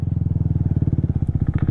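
A motorcycle engine thrums steadily at close range, its rapid regular pulsing loud and continuous while riding a rough trail through the Toraja countryside.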